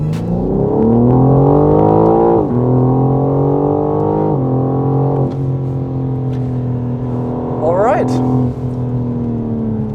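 A 2021 BMW M4 G82 Competition runs on a dyno, its engine droning loudly and rising in pitch through the gears with brief shift dips, under a short spoken remark.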